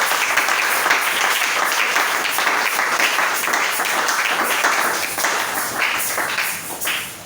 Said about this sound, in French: Acclamez pour la parole de Jésus.